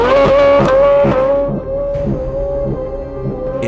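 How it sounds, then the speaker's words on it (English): A Corvette with the track-focused Z07 package, 670 horsepower, sounds loud and close on track: a deep, harmonically rich engine note holds steady, with brief lifts and shifts, and plays alone without talk. "The Corvette, meanwhile, sounds excellent."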